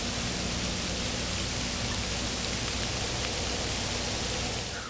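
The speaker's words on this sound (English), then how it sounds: "I think our snow turned to rain." Steady rain falls outdoors during a late-season whitetail bowhunt in Wisconsin after snow turns to rain, a constant even hiss with no break, no other sounds and no speech.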